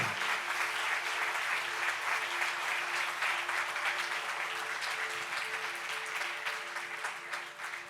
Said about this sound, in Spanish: ¿Por qué no le damos un aplauso fuerte a nuestro Señor?